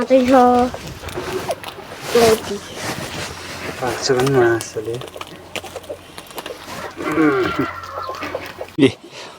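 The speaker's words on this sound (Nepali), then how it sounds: "दुईटा कुखुरा" Chickens cluck in bursts of short, stacked calls, close by, with people talking around and between them.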